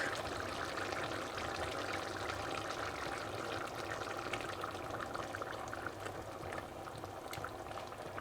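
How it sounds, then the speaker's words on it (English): Leftover cream and milk pour into a thickened sauce as a soft, continuous liquid rush and bubbling, faint and steady for several seconds. "I have a little bit of cream left over, so I'm just gonna shake that out with some milk."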